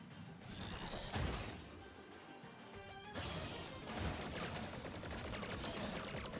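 Shots fired past an enemy's shield in the platformer Grapple Dogs ring out as quick repeated blasts and crunching impacts, loud and close, layered with busy game effects and no talking.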